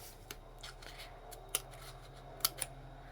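Scissors snip small paper dimensional pieces for a handmade card, giving a few quiet, crisp cuts spaced unevenly over a few seconds against a soft room background.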